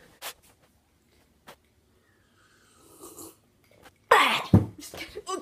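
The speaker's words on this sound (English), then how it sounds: "I need to blow my nose again." After a few quiet sniffs and rustles, someone blows their nose loudly in a couple of forceful, wet honks close by.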